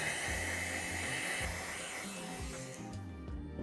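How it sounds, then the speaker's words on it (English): Blow dryer running on glued hair weave tracks, a steady close whooshing hum of airflow that holds constant, then shifts slightly near the end, with no talk. "Let's hit it with the blow dryer to make sure it's nice and dry"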